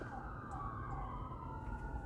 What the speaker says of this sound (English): We hear sirens.